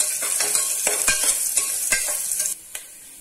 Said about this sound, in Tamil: இப்ப நம்ம தேங்காவை போட்டு நல்லா கோல்டன் கலரா வறுத்து எடுத்துக்கலாம்